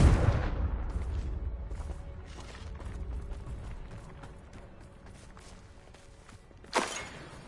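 Confringo spell blasts in Hogwarts Legacy: an opening burst of impact followed by quieter scattered game thuds and movement, then a sharp fiery blast near the end, moderately loud against a subdued background.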